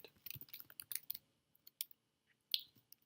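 Close, quiet typing of code on a computer keyboard, a rapid burst of key clicks followed by a few scattered single keystrokes, with no talking.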